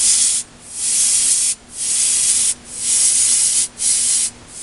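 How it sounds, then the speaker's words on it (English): A Copic airbrush blows air through its nozzle while colouring a large dress, giving a steady close hiss in four long bursts separated by brief pauses. "If your air is not coming out as fast as you want, adjust the nozzle."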